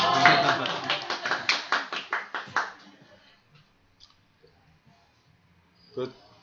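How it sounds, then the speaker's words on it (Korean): Audience clapping to welcome a speaker at a small book-club lecture, a burst of hand claps for about two and a half seconds that fades, followed by quiet with faint room noise and a brief sound near the end. "박수로 환영해 주십시오."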